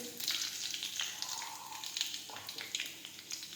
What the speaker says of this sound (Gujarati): હવે આપણે લીમડો નાખીશું, સૂકું મરચું નાખીશું